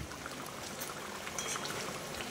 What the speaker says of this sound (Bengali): একটু কাঁচা তেল দিয়ে দিলাম ওপর থেকে